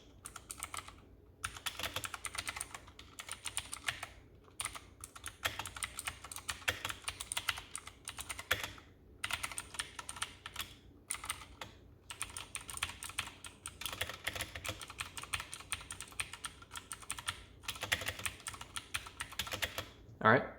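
Light, steady typing on a Redragon K552 mechanical keyboard, close and fairly quiet, with rapid clustered keystrokes broken by short pauses and no speech.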